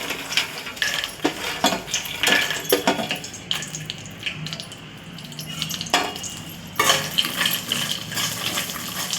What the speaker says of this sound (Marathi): त्याच कढईत आता मी मखाना पण टाकत आहे जरा परतवून घेत आहे कुरकुरीत होतं